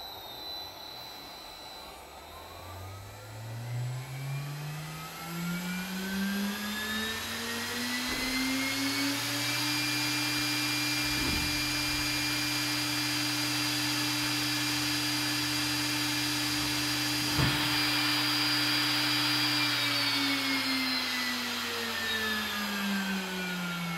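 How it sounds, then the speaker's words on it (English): An 18000 rpm spindle motor driven by a single-phase INVT GD10 inverter spins up with a rising whine, then holds a steady high-pitched tonal hum at rated frequency, loud and continuous with no speech. "set the motor frequency equal to the rated one and run the motor"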